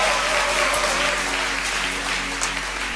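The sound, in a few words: congregation applauding at a church service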